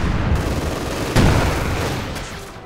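Heavy mortars bombarding a cemetery in Company of Heroes 2, a dense rumble of distant booming impacts with one sharper blast partway through, fading slightly toward the end.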